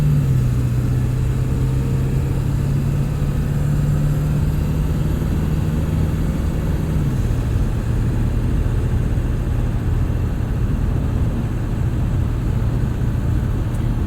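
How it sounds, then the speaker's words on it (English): A Ford Super Duty truck with the 7.3 engine cruises at highway speed, its low, constant drone filling the cabin, the pitch holding steady and then dropping slightly halfway through, with road noise underneath and no talk. "Once you're cruising 60 miles per hour, I mean, this thing, you're always hearing the motor"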